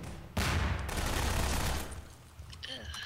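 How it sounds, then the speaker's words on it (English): Rapid bursts of video game gunfire from a Prop Hunt match, loud and sustained for over a second before thinning into scattered shots and game sounds. "they're shooting at everything"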